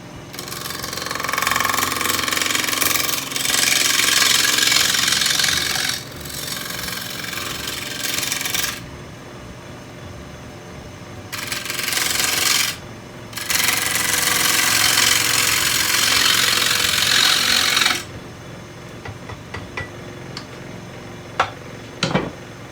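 A half-inch gouge cuts on a wood lathe running at 1500, truing up the bottom of a piece: loud, close, gritty scraping comes in bursts with quieter gaps where the lathe hums, then fades to light taps.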